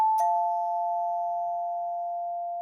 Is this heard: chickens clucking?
no